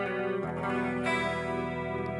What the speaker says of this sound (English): rack chorus sound.